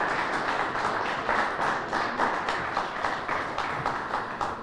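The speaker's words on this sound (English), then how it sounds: "Give them a great round of applause." A crowd applauds the 2024-25 Manitoba Baseball Hall of Fame inductees with a steady, moderately loud patter of many clapping hands, with individual claps pulsing through it, alone with no talk.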